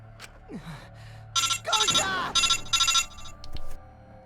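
A cell phone rings inside the video game Danganronpa V3, a bright repeating electronic ringtone in four loud bursts over soft game music, after a short chime and a low sliding tone.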